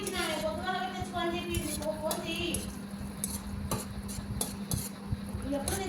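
Boondi for laddu frying in hot oil, a continuous sizzle with frequent metallic clinks of a ladle stirring in the pan, under a voice talking.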